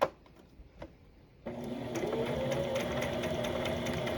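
After a quiet start with a couple of small clicks, a sewing machine starts stitching a scrap piece of fabric, settling into a steady, close, even mechanical whir with no talk.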